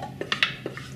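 Rabbit liver pâté scooped into a dish, a few soft scrapes and light clinks of utensil against the dish, quiet and close, spaced over a second.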